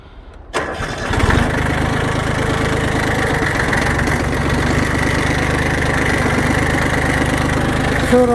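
A small Yanmar F15D 15 hp Japanese tractor engine cranks and catches after a brief quiet moment, then settles into a steady, loud, close diesel idle with a rapid even knock.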